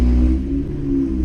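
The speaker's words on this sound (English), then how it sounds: "It's a noisy car over there." A noisy car passes outside with a loud, low engine drone that swells and eases over a second or so, heard alone without talk.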